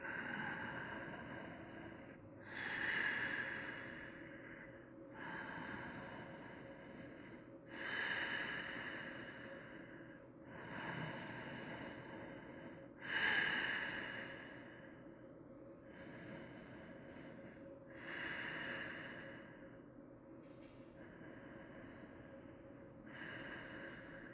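Slow, relaxed breathing during a yoga spinal twist: steady inhales and exhales about every five seconds, soft and close, with faint airy snorts through the nose and no talking.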